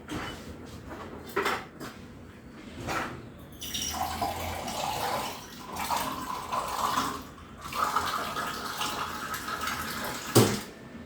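Water poured into a cooking pan to make Maggi noodles in a home kitchen, a steady splashing stream running for several seconds after a few knocks and clatters, with no talking.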